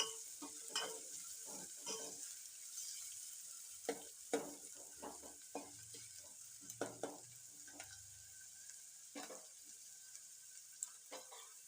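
Onions fry in a pan for a ridge gourd curry, with intermittent scraping stir strokes over a soft, steady sizzle, heard close and quiet.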